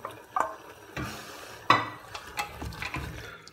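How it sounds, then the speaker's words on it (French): Half a can of tomato pulp goes into a frying pan for poulet basquaise, giving a few soft plops and scrapes of stirring over a light sizzle, close and fairly quiet. "Maintenant, on nous met notre demi-boîte de tomates en pulpe."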